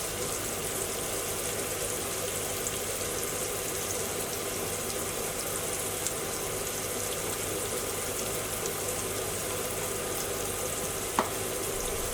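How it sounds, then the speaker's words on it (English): Chopped onions fry in a curry pan for a British Indian restaurant style chicken naga bhuna, a steady moderate sizzle with faint stirring scrapes and an occasional small clink, no voices. "Add in the chopped onions and keep stirring."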